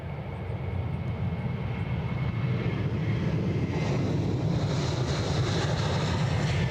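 An Aer Lingus airliner moves on the ground, a steady low engine rumble with faint wind noise that rises slightly in loudness as it goes on, with no voices.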